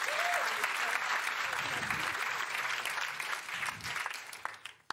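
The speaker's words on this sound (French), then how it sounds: "On peut l'applaudir." A studio audience on a French television talk show applauds loudly and continuously, a full crowd clapping that tails off into a few last claps at the end.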